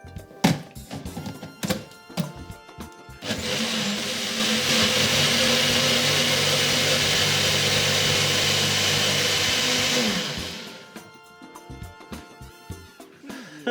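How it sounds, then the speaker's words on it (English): A countertop blender whirs loudly and steadily for about seven seconds while blending a smoothie, framed by clunks and knocks of handling before and after. "We're gonna pop that onto the blender."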